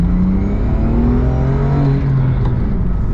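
A BMW M2 Competition engine revs and accelerates hard, its rising whine loud and close for a few seconds.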